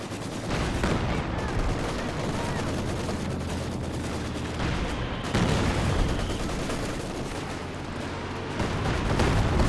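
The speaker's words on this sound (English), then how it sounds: "Oh, close range Katyusha, that's a dead MG34" Katyusha rocket artillery barrage in Company of Heroes 2, a dense roar of launches and impacts with sharp bursts near the start and midway, loud and continuous, game battle noise throughout.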